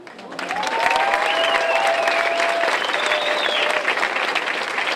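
Applause from the audience at a folklore festival swells quickly into sustained dense clapping, with a few high whistles cutting through. It stays loud and full to the end.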